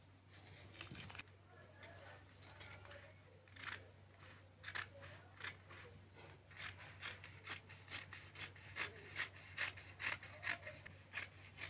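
Scissors cut through fabric for a flare sleeve at close range. Irregular snips at first settle into a quicker run of crisp, repeated cuts, over a low steady hum in the room.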